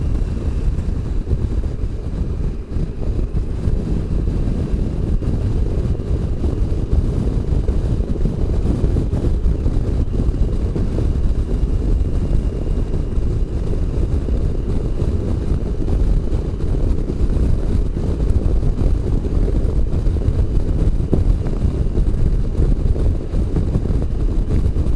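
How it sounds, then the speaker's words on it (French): Steady, loud low rumbling wind buffets the helmet while riding a Triumph Tiger 800 XRX Low motorcycle, a continuous roar lasting throughout with no pauses. "j'ai le vent plein dans le casque. C'est gênant, ça fait du bruit."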